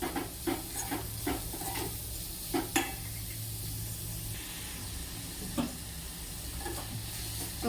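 Vegetables for a homemade hot and sour soup being stirred in a pot as salt goes in, a soft steady hiss of steam and sizzle under regular clinks and scrapes of the spoon against the pot.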